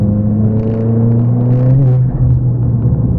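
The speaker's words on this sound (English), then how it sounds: "I'm just going to give the car a little push" A Ford Fiesta ST engine (Stage 4, 350 bhp) hums loudly close up, its tone rising steadily as it accelerates, with a low rumble underneath.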